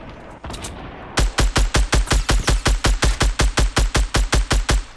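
Fortnite gunfire in a rapid, evenly spaced burst of about twenty loud, punchy shots that follows a short muffled stretch of in-game noise.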